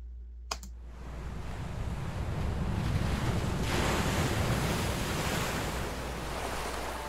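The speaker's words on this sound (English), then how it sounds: "the misty beach." Waves roll onto a misty beach in a steady, broad wash of surf that swells slightly midway, preceded by a brief click at the start, moderately loud and continuous.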